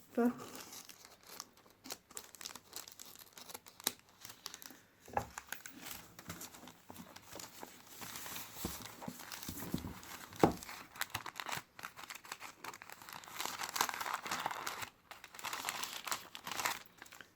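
Small scissors snip open a secondhand-marketplace parcel while plastic packaging crinkles and rustles steadily at close range, with a voice talking over parts of it.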